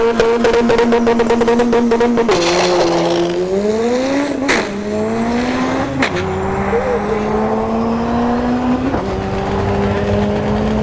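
A turbocharged Honda Civic drag car's engine screams loudly as it accelerates hard down the dragstrip, the pitch dropping sharply at each of several quick gear shifts.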